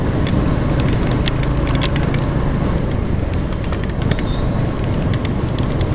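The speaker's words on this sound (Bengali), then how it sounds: "বাইরে খুব জোরে বৃষ্টি নেমে গেছে।" Heavy rain falls outdoors during a roadside stop with a Royal Enfield Hunter 350 motorcycle: a dense, steady wash of noise fills the whole stretch, with scattered sharp drops and spatters over a low rumble and no voices.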